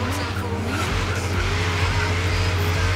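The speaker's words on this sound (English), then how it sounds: "Lots of wheel spin." A drag-tuned Ford Deluxe Coupe in the racing game Forza Horizon 3 spins its wheels, with continuous loud tire squeal over a steady engine roar, close and sustained throughout.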